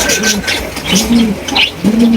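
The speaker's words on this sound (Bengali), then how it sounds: "এখানে একটা সিলভার লাহুরি কবুতর দেখতে পাচ্ছেন" Close, loud cooing from Silver Lahori pigeons at a pigeon sale, with a few throaty calls in quick succession amid a busy background of rustling and chatter.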